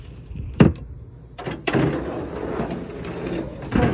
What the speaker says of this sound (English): Front door, we're gonna go this way.